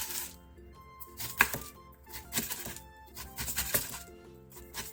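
A knife chops aged kimchi on a cutting board in a series of quick, uneven strikes, close and fairly crisp, with steady background music underneath.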